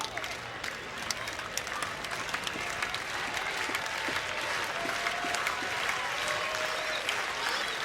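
At George M. Steinbrenner Field during a Rays spring training baseball game, a large stadium crowd claps and cheers steadily, awaiting the final strike, with a faint voice beneath the sustained wash of applause.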